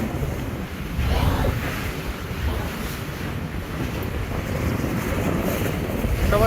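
Wind and water rush steadily around a passenger launch on a river in Bangladesh, overtaking the Surabhi 7 on a Barisal to Dhaka run, with broadband surging noise and low engine rumble, no voices.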